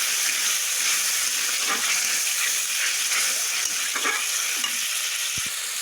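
Water poured onto fried mustard paste in hot oil for Bengali rui shorshe bursts into a loud, continuous hiss and sizzle, steady and close throughout, ending with a couple of faint clicks.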